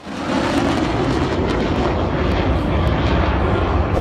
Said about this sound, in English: This jet's flying by a crowd at high speed.